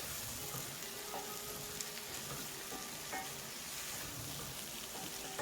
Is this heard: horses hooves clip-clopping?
no